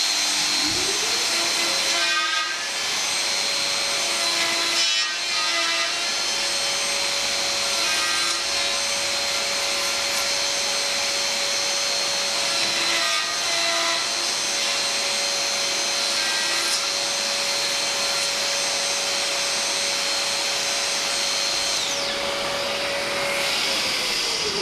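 A Festool plunge-cut track saw cuts through wood. Its motor spins up with a rising whine, then runs steadily for about twenty seconds under a broad cutting hiss before winding down, with no talking.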